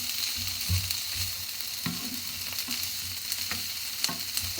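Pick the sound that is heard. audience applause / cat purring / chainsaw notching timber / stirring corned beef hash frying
stirring corned beef hash frying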